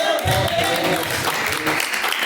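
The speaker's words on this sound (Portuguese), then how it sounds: "As palmas podem louvar." Church congregation clapping in praise during a live service, continuous rhythmic hand claps filling the room with a reverberant, slightly muffled wash.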